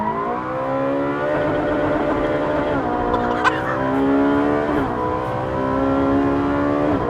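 A Ferrari 458 Speciale accelerates hard on a race track, its engine note climbing through the revs with brief dips at gear changes, loud and sustained throughout.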